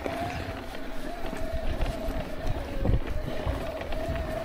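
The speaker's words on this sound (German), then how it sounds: "So, der Wind kommt." Wind buffets the microphone while a Stevens E-Inception e-bike climbs uphill, giving a continuous low rumble and rushing noise with gusty swells and a faint steady motor whine underneath.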